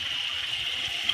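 Cold tap water runs steadily into a container for soaking salt cod, a continuous close hiss of flowing water with no talk.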